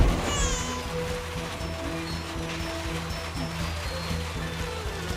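Heavy rain in a Filipino comedy film scene, a dense, even hiss of downpour with a low rumbling hum beneath, moderately loud and unbroken.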